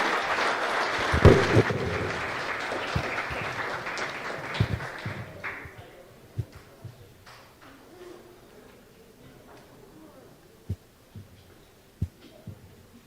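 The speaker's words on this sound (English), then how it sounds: "I think that deserves another round of applause" A crowd applauds at the OECS Super Regional Challenge 2026 opening ceremony after a musical performance, with a dense burst of clapping that fades over the first few seconds into a quieter hall with scattered thumps.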